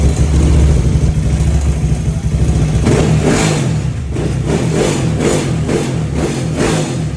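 Yamaha Aerox scooter with a 183cc engine build and an improvised injector joint, revving loudly and steadily on a test, the engine rising and falling in repeated close blips with no talk.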